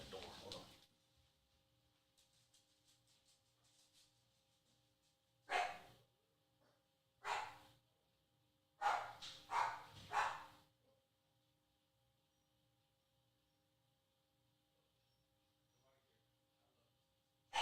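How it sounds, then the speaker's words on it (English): A dog barks indoors in a handful of sharp, separate woofs, first two spaced apart and then a quick cluster of three, moderately loud against a quiet room. "I don't know what the dog was barking at"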